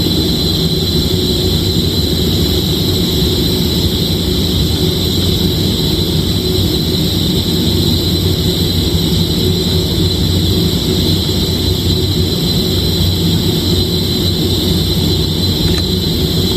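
A fluid mechanics lab pump rig runs at high rpm, giving a loud, steady mechanical roar with a constant high whine that holds unchanged throughout.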